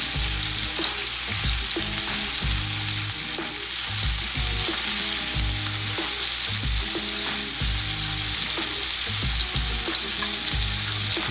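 Shrimp sear in olive oil in a large skillet pan, making a loud, continuous hiss of sizzling broken by occasional knocks of utensils.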